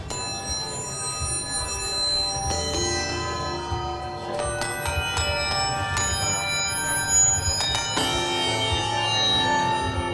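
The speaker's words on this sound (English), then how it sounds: "sounds a lot like a sample of a bell. That's actually pure synthesis." Bright, synthetic bell tones from Native Instruments Komplete 7, pure synthesis rather than a sample, ring out in a slow melodic sequence, struck notes layered with sustained shimmering overtones.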